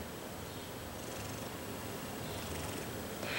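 A cat purring steadily and softly, a low continuous rumble close by with a faint hiss of room noise and no talking.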